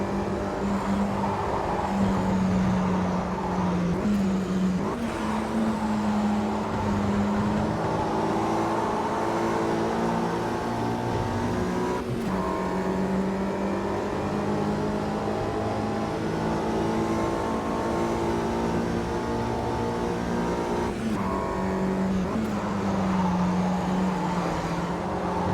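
Racing engines of 1965 Mini Cooper S cars in Automobilista 2 at Cascavel drone continuously, with pitch rising and falling through gear changes as several cars run close together, loud and steady with no voices.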